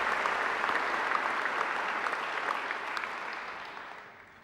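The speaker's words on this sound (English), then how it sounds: "They deserve a great round of applause too." Graduation ceremony audience applauds alumni volunteers: dense, steady crowd clapping throughout, loud and close, tapering slightly at the end.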